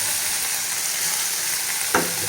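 Red leafy greens frying in a pan with onion, a continuous close sizzle with a sudden louder rustle and clatter near the end as more goes in or is stirred.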